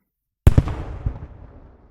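After a moment of silence, a sharp explosive boom bursts close by, followed by a couple of cracks and a long rumbling tail fading out.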